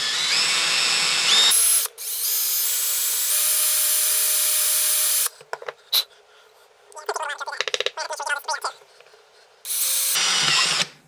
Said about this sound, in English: grab a drill and carefully modify this thing